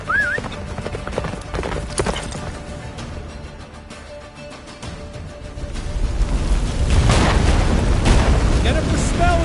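A horse gallops in the Witcher 3 video game, rapid hoofbeats under dramatic music, wind and booming effects that swell louder in the second half, with characters shouting over the action.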